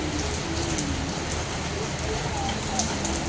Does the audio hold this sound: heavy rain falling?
yes